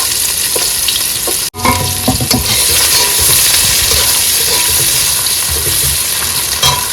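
Chopped onion and garlic fry loudly in hot oil in a pan for a curry, a steady dense sizzle with stirring scrapes, broken by one brief dropout, no talking.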